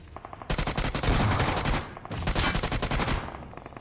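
Rapid gunfire, including shotgun blasts, rattles loudly in a battle royale video game, coming in dense bursts with a short lull between them.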